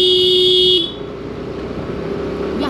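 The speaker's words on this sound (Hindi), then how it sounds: "यहाँ पे ध्यान से पूरा हॉर्न दे रहा" A car horn blares in one long, loud, steady tone on a mountain road in Himachal, stopping after under a second, followed by the rumble of the moving vehicle.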